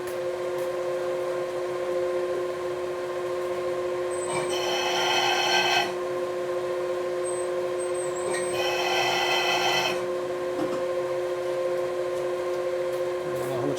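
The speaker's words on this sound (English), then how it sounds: "I'm going to drill the two outer holes now" Machine hum runs throughout, broken by two harsh grinding bursts of a drill biting into metal, each lasting about a second and a half, while drilling holes for a 1942 Harley-Davidson WLA 45 cubic inch flathead engine.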